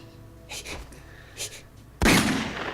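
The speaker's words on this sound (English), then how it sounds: "Look at the gunshot noises." Sharp gunshot sound effects: a couple of faint muffled pops early on, then a loud broadband blast that decays with noisy tail, standing out clearly near the end.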